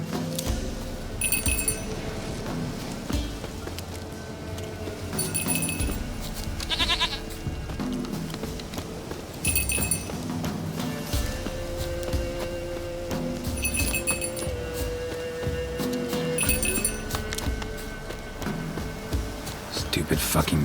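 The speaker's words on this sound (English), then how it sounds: "Do I really have to keep ringing this bell for you to follow?" A small bell rings in short repeated bursts to lead a goat in The Witcher 3, the jingles spaced a few seconds apart over ambient game sound, with goat bleats and spoken voices in between.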